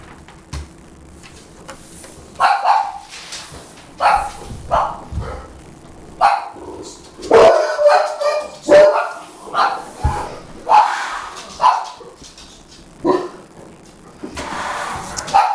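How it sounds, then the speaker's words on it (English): Several dogs bark excitedly in repeated bursts, somewhat distant and at moderate loudness, over a steady background hum. "dogs are going crazy, so we'll let that happen and you can enjoy that"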